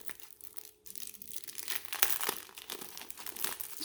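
Cards being pulled from a Kohaku board game box, a run of close papery crinkling and rustling with a few sharp crisp snaps, steady and fairly quiet, with no talking.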